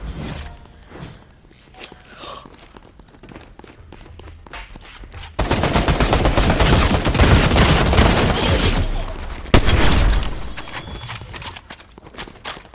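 Gunfire from an assault rifle in Fortnite: rapid automatic bursts and scattered shots, loud and up front, with a denser sustained volley in the middle over game sounds.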